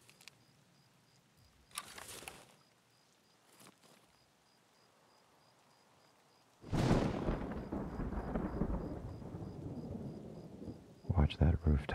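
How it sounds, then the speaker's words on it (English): Thunderstorm with rain in the video game Tarkov on a night Customs map: a quiet stretch with brief crackles, then a loud thunder crash near seven seconds rolling into steady heavy rain, with another burst at the end. "Oh, this rain covers up so much noise."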